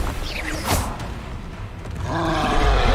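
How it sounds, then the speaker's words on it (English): Giant troll in Hogwarts Legacy letting out a low, rumbling roar at a camp, with a rising growl building toward the end amid game ambience. "You have a giant troll over here taking a camp."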